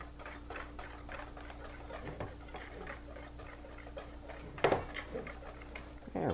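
Dry ingredients for cornbread dressing, including salt, whisked around in a bowl, giving a steady light scraping and tapping with a few sharper clinks of the utensil against the bowl near the end.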